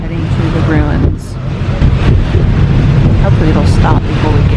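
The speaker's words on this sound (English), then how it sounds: "It is now pouring down rain" Heavy rain pouring down around a vehicle on the road to the Tulum ruins, a loud steady hiss and rumble with wind buffeting the microphone and a brief dip in the middle.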